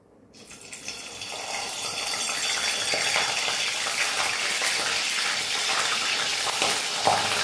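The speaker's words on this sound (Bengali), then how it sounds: "ওখানে ডাল চাল সেদ্ধ হতে হতে আমি কপিটা ভেজে নেব।" Cauliflower frying in a pan, a steady broad hiss of oil that swells in within the first second and holds loud and even throughout, with a few faint clinks near the end.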